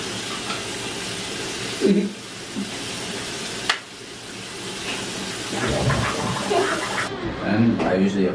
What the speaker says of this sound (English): Splash water on my back.